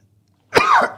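A single harsh, close cough bursts out after a near-silent pause, loud and throaty like someone clearing their chest.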